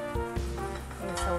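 Garlic sizzles in a hot pan for tomato soup, a steady close frying hiss with a few soft stirring knocks.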